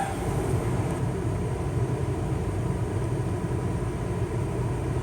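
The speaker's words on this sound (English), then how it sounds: "The train is finally moving." A train rolls past a railroad crossing, giving a steady, close rumble with no break from start to finish.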